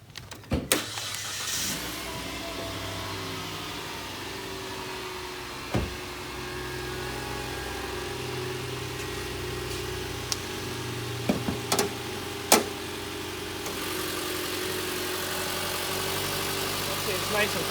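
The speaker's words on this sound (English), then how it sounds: "We'll go ahead and start the engine." A 2015 Mitsubishi Outlander Sport ES SUV with a 2.0 liter four-cylinder MIVEC engine cranks briefly and fires up, then settles into a steady, smooth idle, heard up close with a few clicks and knocks over the running engine.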